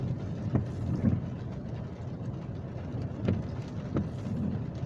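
Rain keeps falling steadily after a hailstorm in Riyadh, a soft continuous patter with a few sharper drops or knocks standing out at intervals; no one speaks.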